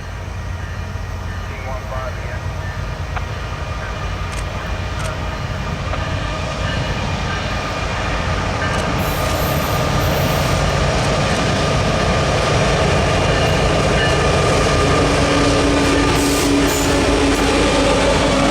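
A long freight train rumbles past in northern Illinois at steady, loud volume, a continuous roar of rolling wheels and rail noise with faint squeals.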